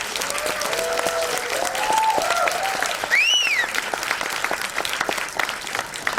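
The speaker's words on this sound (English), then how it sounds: "We should give a big round of applause of all those people who made it." Audience applause at a book launch honouring filmmaker Nasir Hussain, a steady dense clapping from a sizeable crowd lasting several seconds, with faint tonal whistles or voices rising briefly above it.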